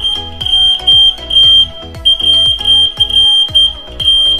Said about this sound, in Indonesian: alarmnya sudah berbunyi